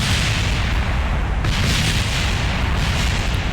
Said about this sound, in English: Lots and lots of explosions.